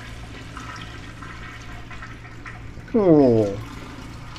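A single loud toilet flush in the video game Home Sweet Home, a sudden rushing gurgle of water lasting about half a second against a quiet, humming game background, with a brief spoken interjection.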